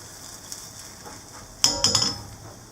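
A spatula scrapes and knocks against a pan while flipping an omelette with fruit and vegetables for a pet blue tongue skink, giving a short burst of clinks and scrapes after a quiet start.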